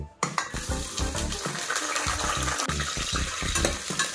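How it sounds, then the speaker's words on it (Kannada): Chopped onions and green chillies sizzle and fry in hot oil in a pressure cooker pot, with steady crackling and repeated stirring scrapes, loud and close, with no voices. "ಈರುಳ್ಳಿ ಚೆನ್ನಾಗಿ ಫ್ರೈ ಆಗ್ತಾ ಇದೆ"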